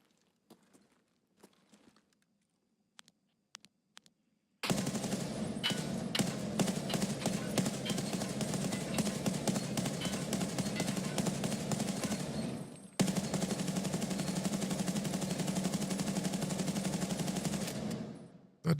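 Automatic gunfire in the video game Escape from Tarkov: after a few faint ticks, long dense rapid-fire bursts run for about thirteen seconds, with one brief break partway through.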